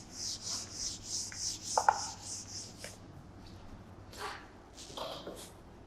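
Writing rubbed off a classroom board during a maths lesson: a series of soft rhythmic scrubbing strokes up close, with a brief squeak and a few later swipes after a pause.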